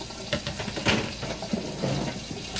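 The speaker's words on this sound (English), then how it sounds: "wash these trays off a little bit" Tap water running into a sink while Excalibur dehydrator trays are washed, a steady close splashing rush with small clattering knocks of the trays.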